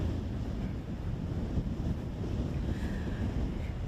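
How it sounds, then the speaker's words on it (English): Strong blizzard wind buffets the microphone at an interstate closure on I-29, a constant loud rumbling roar with gusty surges throughout and no speech. "As you can see, it is windy."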